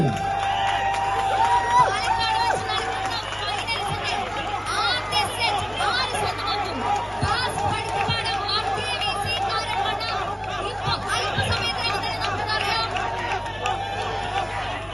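Dense crowd at a football final between two teams, chattering and shouting continuously with scattered cheers and whistles throughout, a steady loud hubbub with no clear clapping bursts standing out.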